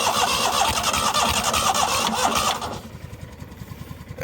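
A neglected 1998 Yazoo YTKC22 three-wheel mower engine cranks and catches, running loud and rough for about two and a half seconds before dropping to a quieter, uneven idle with a pulsing low thump.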